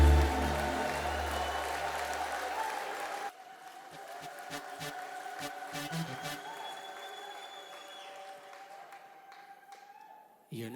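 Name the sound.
congregation applause and ululation in worship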